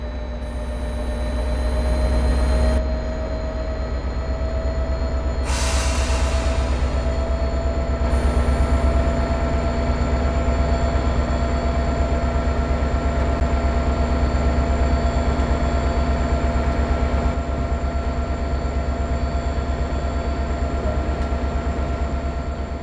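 In the video game Train Sim World 2020, an F40PH-2CAT diesel locomotive rumbles steadily with a low engine drone and sustained tonal hum, with occasional hissing bursts of air release near the start.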